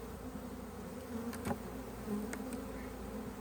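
Honey bees in an open beehive during late-season queen introduction, making a steady, close, droning buzz with a few faint taps and knocks from handling the frames, and no talk.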